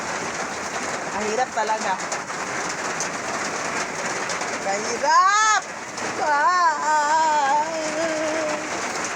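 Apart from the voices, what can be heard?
rain falling outside the house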